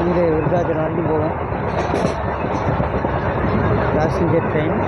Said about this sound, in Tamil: இது வந்து டெய்லியும் போகிற ட்ரெயின்.